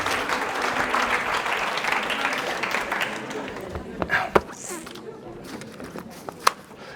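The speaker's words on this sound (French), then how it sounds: "On peut les applaudir, s'il vous plaît." An audience at a live science evening applauds guests leaving the stage, full clapping for the first few seconds that then thins out into scattered claps and a few sharp knocks while a voice speaks.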